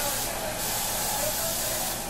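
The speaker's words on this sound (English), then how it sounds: "I'm adding the coconut oil spray, and it's, you know, 0 fat, and just saturate it in there" Coconut oil cooking spray hisses in a steady, continuous burst for about two seconds, close and fairly loud, with no pauses.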